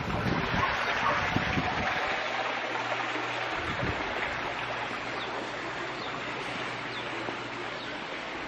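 A backyard pool waterfall pours steadily, producing a continuous rushing, splashing wash of falling water with a faint low hum beneath it.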